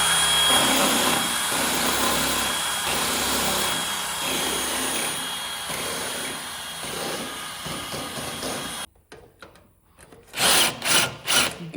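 Loosening spot welds on a rusty car cab with a power tool: a steady loud grinding, drilling rasp for about nine seconds, then a brief quiet gap before several short bursts of cutting resume.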